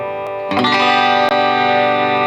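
A bright Danelectro electric twelve-string guitar chord, both pickups combined, rings out loud and sustained with a full, slightly driven tone, briefly cut once before ringing on.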